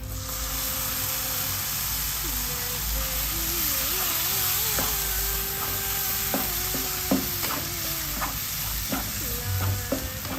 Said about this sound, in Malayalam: ഈ തക്കാളിയുടെ പച്ച മണം ഒന്ന് മാറണം അത് വരെ ഒന്ന് ഇളക്കി കൊടുക്കാം